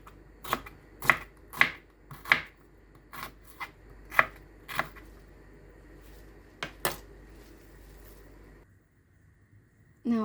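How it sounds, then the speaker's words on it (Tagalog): A knife slices onion on a cutting board, with a run of sharp, close chops in an uneven rhythm, then a pause and a couple of final cuts, all with no talk. "And for the meantime, let's slice our onion."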